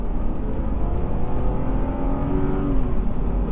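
A first-generation BMW X3 engine pulls steadily under acceleration, a smooth, loud, continuous drone heard from inside the vehicle, its pitch rising gradually as the gears carry it up to speed.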